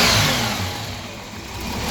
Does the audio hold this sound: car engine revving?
yes